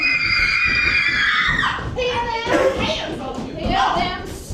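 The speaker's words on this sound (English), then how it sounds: "hear them screaming" Children shriek and scream offstage during a stage production of Cat on a Hot Tin Roof, a loud, continuous jumble of high voices with thuds and shouts, heard at a distance across the theater.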